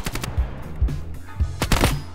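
Machine gun fire in an online shooter game rattles in short, loud bursts of rapid shots, several clustered volleys with brief pauses between them, heard close and alone.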